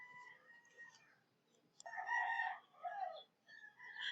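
A chicken crows and clucks in a kitchen in short bursts, with a quiet lead-in followed by a louder, fuller call and further clucking, heard up close with no one speaking.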